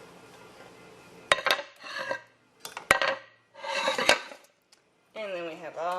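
Boiled beets poured from a pot into a metal colander in a kitchen sink, giving several sharp metallic clanks and bursts of splashing, rattling rasp, then a steady gush of draining water at the end.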